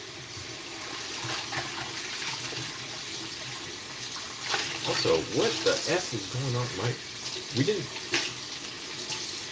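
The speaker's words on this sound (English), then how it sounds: "The water's not running that warm." Water running from a tap in an apartment building, a steady hiss and splash under someone talking, with louder gurgling bursts midway.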